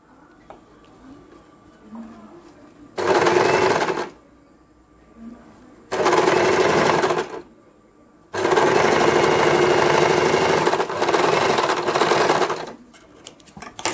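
A sewing machine double-stitches a pocket onto a blouse: three loud, close bursts of rapid stitching, the last one long and sustained, with quiet pauses between.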